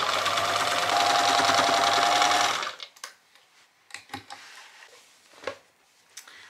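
A sewing machine stitching a denim apron made from upcycled jeans runs in a fast, steady hum for about two and a half seconds, then stops, followed by scattered light clicks and handling sounds.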